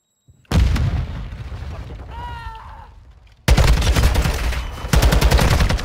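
Rapid gunfire crackles in a first-person shooter on a control map. Two loud, dense volleys are split by a quieter gap with a short rising tone, and the shots sound close.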